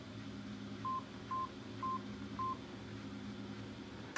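A phone keypad gives four short, evenly spaced dialing beeps, clear but moderate in level over a low steady room hum, with no voices.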